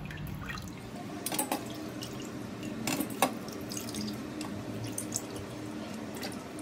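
Rohu fish pieces soaked in salt and lemon water being lifted out, with soft drips and small watery splashes scattered through a quiet kitchen background.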